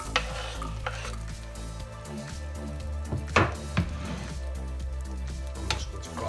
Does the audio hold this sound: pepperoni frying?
yes